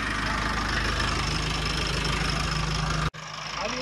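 A Sonalika 4x4 745 tractor engine labors under a heavy load, a loud steady mechanical chugging drone that cuts off abruptly near the end and then resumes more quietly.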